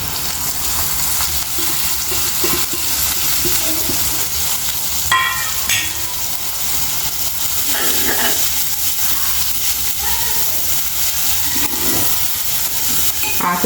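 Chopped fenugreek leaves fry in a pan with a steady, loud sizzle and hiss throughout, with occasional stirring scrapes and no talk.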